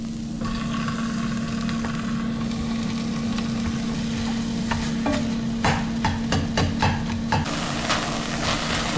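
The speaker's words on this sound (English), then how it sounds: "When you hear that noise, that means the meat's frying off." Ground turkey sizzles and crackles steadily in a hot pan, with a few sharp scraping stirs of a utensil near the end and a low hum underneath.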